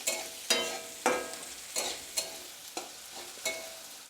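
Onions fry in oil in a pan over medium heat, with a soft continuous sizzle broken by about seven regular spatula scrapes as they are stirred, fairly close and without talk.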